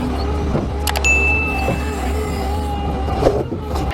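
A heavy logging truck engine roars on a rugged forest road, a steady deep rumble with brief metallic squeals and clanks on top, continuous and fairly loud.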